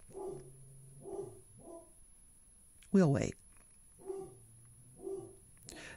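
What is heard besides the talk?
dogs barking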